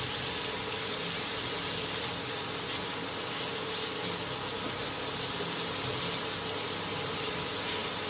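Prawn mince fries with Goan recheado masala and chilies in a hot pan, giving a loud, steady, hissing sizzle that runs unbroken and close throughout, with no talking.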